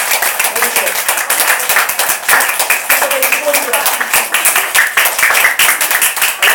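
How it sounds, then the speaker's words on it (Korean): Church congregation clapping to glorify God during a Korean sermon service, loud rhythmic group claps repeating steadily throughout, with voices mixed in beneath. "하나님께 영광의 박수를 올릴 때는요, 가슴 위로 올려야 돼요."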